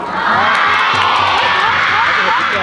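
An audience at a school event, a technology college, cheering and shouting loudly in a continuous close roar, with voices rising over the crowd.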